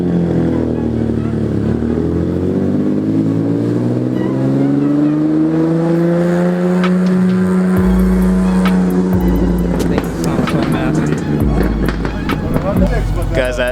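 A Lamborghini Diablo supercar engine revs at a nighttime car meet, caught through bushes; loud rising and falling revs, a strong low rumble after it, and voices in the background.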